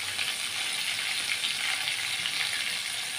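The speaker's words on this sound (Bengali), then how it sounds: "ভাজা অলরেডি হয়ে যাচ্ছে" Chicken fries in a pan with a bright, steady, close sizzle that holds even and unbroken, with no talking.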